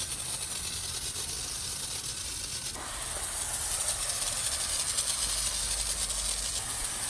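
A steady, hissing spray of a foam sprayer soaping a motorcycle runs continuously, briefly dipping then resuming slightly louder before tapering near the end, with no voices.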